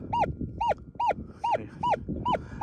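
A Minelab Equinox 800 metal detector in prospecting mode gives repeated rising-falling warbling tones, about seven evenly spaced chirps over a rough low rumble, loud and close.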